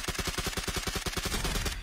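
Rapid automatic gunfire from Peace Elite, fired right after getting out of a vehicle, comes as loud close-range bursts in a fast, steady rhythm, then breaks off into a rougher rumble.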